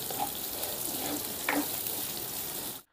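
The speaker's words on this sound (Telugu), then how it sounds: "మన ఉల్లిపాయ కట్టాకి ఈ రకంగా వేగితే సరిపోతుందండి" Sliced onions frying in a pan, a dense bright sizzle with stirring scrapes running steadily for a few seconds, then cutting off abruptly.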